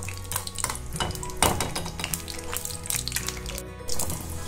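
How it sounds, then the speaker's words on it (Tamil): Cashews frying in melted ghee in a pan, a steady close sizzle with stirring and clinks of a utensil against the pan, no voices. "முந்திரி பருப்பு நல்லா கோல்டன் கலரில் வறுத்தாச்சு."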